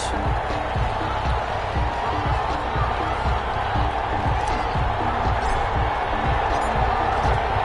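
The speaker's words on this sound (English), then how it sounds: "This crowd is ready" A stadium crowd roars at an NFL game between the Carolina Panthers and the Detroit Lions, a dense continuous wash of cheering and clapping with sharp thumps throughout, loud and steady.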